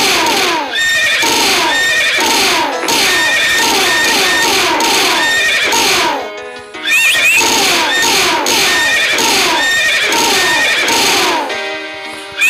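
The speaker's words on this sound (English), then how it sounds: "You're supposed to throw the horse." Horse whinnies and neighs from the video game Stick of Titan repeat loudly throughout, layered over busy game effects and clattering sounds with no pauses.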